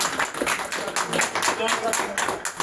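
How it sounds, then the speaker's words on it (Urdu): Loud, sustained applause at a Sufi function, dense clapping in repeated swells for nearly three seconds, with voices mixed into the crowd noise. "ماشاء اللہ زوردار تالیاں"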